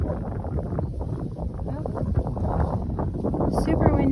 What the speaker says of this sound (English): Well, super windy out here.